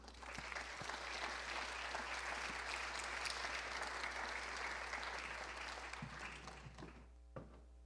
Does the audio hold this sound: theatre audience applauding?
yes